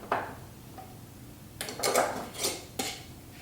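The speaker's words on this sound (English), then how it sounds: "Now let's put our lid on." A lid set onto a pot of popcorn kernels, giving a few close clanks and scrapes of metal with a short rattle in the middle, loud against an otherwise quiet kitchen.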